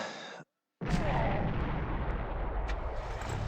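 Missile strike on a cluster of troops in the Warhammer Epic 40k strategy game Final Liberation: a short gap of silence, then a sudden loud, sustained rumbling blast that rolls on for several seconds.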